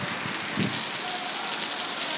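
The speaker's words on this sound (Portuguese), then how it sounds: "Muita chuva nesse momento aqui em Ceará, Pernambuco" Heavy rain falls at night in Ceará and Pernambuco, Brazil, a dense, unbroken hiss that stays loud and even from start to finish.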